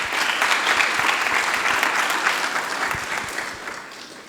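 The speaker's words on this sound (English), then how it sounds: "Please give him a round of applause." Audience applause at a governor's symposium, a sustained round of dense clapping from a crowd that holds steady and then begins to taper off near the end.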